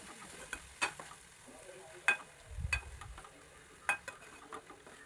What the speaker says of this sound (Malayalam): ഇനി അതിലേക്ക് കിഴങ്ങ് ചേർത്ത് കൊടുക്കാം.